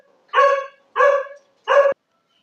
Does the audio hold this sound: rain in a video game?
no